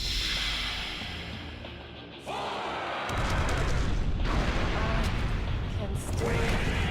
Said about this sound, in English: fire some cannons at the only remaining Eden